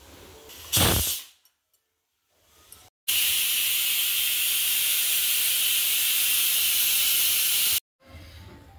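A pressure cooker on the stove for a village-style sambar lets out a loud, sustained hissing steam blast lasting several seconds, preceded by a short burst and quieter clattering, close to the listener.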